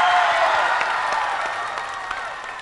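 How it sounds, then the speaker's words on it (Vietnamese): Audience applause at a Vietnamese music show: a steady, dense wash of clapping and crowd noise that holds throughout and eases slightly toward the end, with no voices over it. "Xin các bạn cho một tràng pháo tay nữa."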